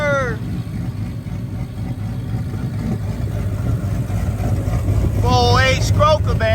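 Classic Chevy with an LS-swapped 408 stroker V8 running nearby, a steady deep engine rumble throughout, with someone talking excitedly over it at the start and end.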